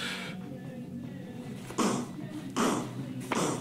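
Human voices imitate drums by making mouth percussion into a close microphone for a song. Several punchy, noisy bursts land about every three quarters of a second over a low background hum.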